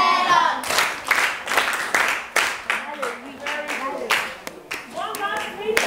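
A classroom of students claps for a classmate in an English lesson, several bursts of brisk hand clapping that start and stop unevenly, with a teacher's voice and students' voices speaking between and over them.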